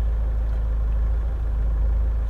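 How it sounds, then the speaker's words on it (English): A car engine idles just after being restarted following a stall, giving a steady, close, low-pitched hum with no other sounds. "just had another stall and restarted the engine"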